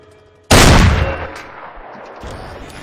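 A single loud gunshot in the Arma 3 IFA3 WW2 mod video game, cracking sharply and then decaying in a long rumbling tail, with a soft thump near the end.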